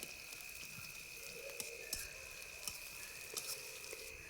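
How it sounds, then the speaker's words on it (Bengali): Chopped onions stir-frying in a pan after eggplant, a steady low sizzle with a few soft scraping clicks from stirring, close and alone without talk. "এখন আমি এখানে এক বাটি পেঁয়াজ কুচি দিয়ে নেড়ে চেড়ে ভেজে নিচ্ছি।"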